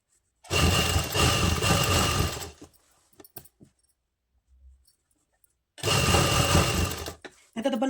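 A sewing machine stitches a folded seam in two loud, steady whirring runs of about two seconds each, separated by a quiet pause with faint clicks and handling.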